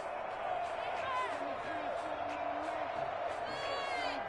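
A stadium crowd in an NFL football video game cheers and whoops in a steady roar, with a commentator talking over it.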